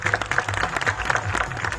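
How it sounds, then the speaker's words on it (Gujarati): A village crowd claps to welcome Chaitar Vasava, the local MLA, at a gathering. The applause is steady and fairly dense, with a faint rhythmic low thump under it, and no one speaks. "તાળીઓથી ધારાસભ્ય શ્રીને વધાવી લઈએ મિત્રો।"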